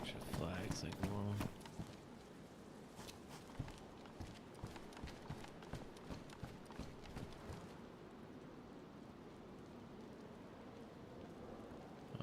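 Rainfall in the DayZ survival game on the Chernarus map, a faint steady patter running throughout under louder rhythmic footstep-like thuds, with a brief voice near the start.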